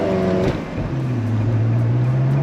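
Ferrari engine idling then pulling away in first gear, a steady low engine drone rising slightly in pitch as the car moves off, close and continuous with no talking.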